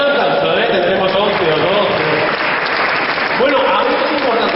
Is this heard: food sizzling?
no